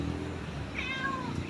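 A cat meows near a countryside hut, heard as one rising and falling call at mid-distance over steady background noise.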